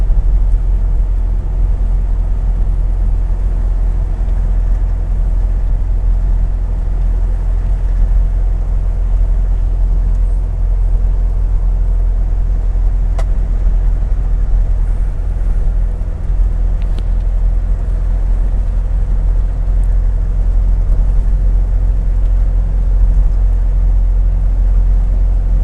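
A Triumph Herald 13/60 convertible on a brisk run toward the town of Hingham, its engine and road noise a loud, steady low drone and rumble heard from on board throughout, with no talking.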